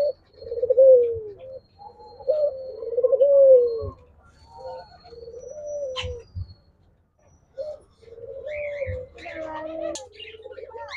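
Diamond doves cooing at a dove farm: a series of soft, close, repeated coos with short pauses, joined near the end by higher chirping calls from other birds.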